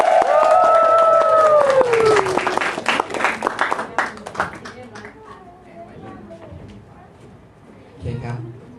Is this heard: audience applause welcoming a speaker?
yes